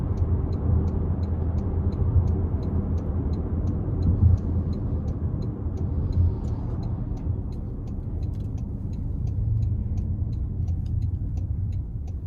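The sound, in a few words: 2026 Toyota Corolla Cross driving onto the interstate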